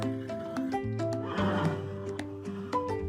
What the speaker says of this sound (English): I see a brown horse.